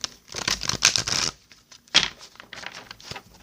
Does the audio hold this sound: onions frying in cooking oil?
no